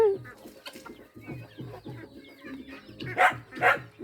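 Chickens cluck in short repeated bursts nearby in a farmyard shared with ducks, with a couple of louder squawks toward the end and no talking.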